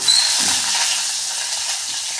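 Curry leaves and garlic hit hot oil with a bright, steady sizzle and hiss, loud and close, holding evenly for a couple of seconds without any talking.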